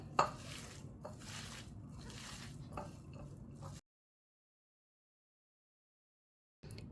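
Onions, green chillies and salt squeezed together by hand in a bowl, giving soft close squishing and rustling with a light clink at the start, then silence partway through before the sound briefly returns.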